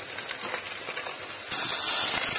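Minced beef hits a hot pan of lightly browned onions, setting off a sudden loud, steady sizzle that starts partway through and continues to the end, after a quieter stretch of low frying.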